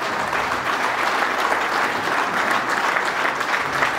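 Guests at an Armenian wedding celebration clap steadily and loudly in sustained applause, a dense, even wash of hands with no pauses.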